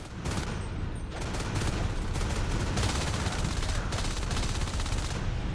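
Rapid game gunfire as marines shoot Fades, Lurks and Onos in Natural Selection 2, a dense, steady stream of shots filling the whole stretch with no break.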